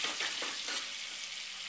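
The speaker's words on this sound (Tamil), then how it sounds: "காய்கறியெல்லாம் போட்டு வதக்கணும்." Onion and vegetables sauteing in a pan for mung dhal curry, a steady close crackling sizzle with a few stirring scrapes early on, heard alone.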